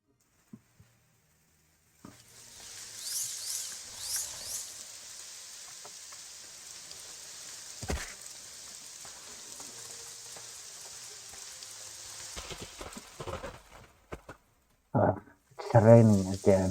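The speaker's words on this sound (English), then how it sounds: "it's raining again" Steady rain falls in the video game Morrowind, a broad hissing patter that runs continuously for over ten seconds, with a few brief louder knocks and a voice speaking near the end.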